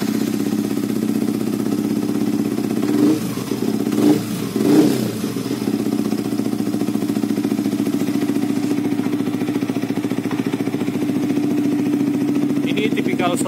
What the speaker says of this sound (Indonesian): Ini tipikal suaranya, suara knalpot yang adem ya